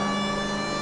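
A steady, continuous electronic police car siren tone in the video game L.A. Noire, flat and unchanging, filling the whole short stretch.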